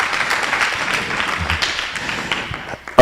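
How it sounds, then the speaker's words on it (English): Applause from an audience at a gaming hackathon winner announcement after a team's presentation, moderate clapping that tapers off, ending with a sharp nearby thump. "Let's give them a round of applause for that amazing and awesome presentation."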